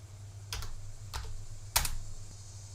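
A few brief computer keyboard keystrokes, three quick clicks spaced apart, close and quiet over a low steady hum, with no talking.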